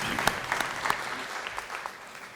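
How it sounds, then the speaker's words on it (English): Audience at an ACES graduation ceremony giving a quick round of applause, a moderate, steady patter of many hands with a few sharper claps standing out, heard from a short distance. "A round of applause real quick."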